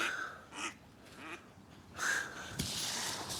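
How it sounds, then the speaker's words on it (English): Ducks at a lake call out with a few short quacks as they paddle in toward tossed bread, the nasal bursts spaced apart and moderately close over a quiet outdoor background. "Try and get the ducks over here for a free feed."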